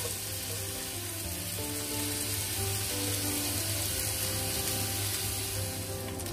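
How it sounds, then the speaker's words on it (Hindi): Chopped onion fries steadily in hot oil in a pan, a close, continuous crackling sizzle throughout with no talking. "अच्छा गोल्डन ब्राउन होने तक फ्राई करेंगे।"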